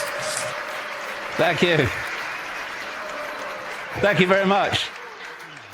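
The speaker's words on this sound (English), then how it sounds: "And here's your applause." Audience applause fills a hall after a talk, a steady wash of clapping that runs throughout while someone says thanks twice over it.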